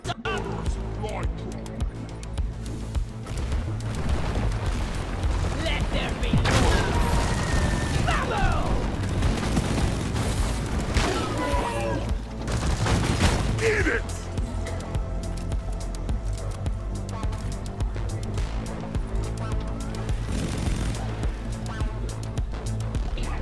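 Gunfire in the co-op mining game Deep Rock Galactic, dense bursts and booms from a gunner's weapons with mechanical clatter, loud and continuous over game music and effects, with players talking throughout.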